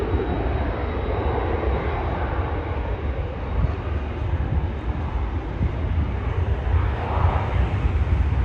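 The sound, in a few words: Air Canada Airbus A320 airliner departing for Montreal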